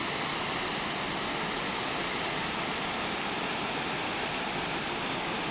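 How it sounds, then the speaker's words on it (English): Waterfall at Finch Hatton Gorge: a loud, steady roar of falling water, close by and unbroken throughout, with no voices. "There's the waterfall."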